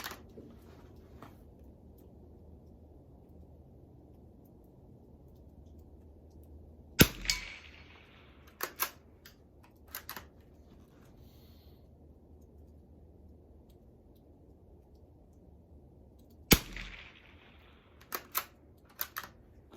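Two sharp, fairly quiet reports from a Mossberg 46A bolt-action rifle firing at a target, spaced about ten seconds apart. Each is followed by a few soft mechanical clicks and clacks in an otherwise quiet outdoor setting.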